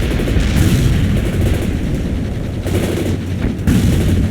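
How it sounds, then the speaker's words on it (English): Gunfire and explosions rumble through a military video game battle with insurgents, dense continuous rattling bursts and booms, loud and close, with no voices. "We're under fire!"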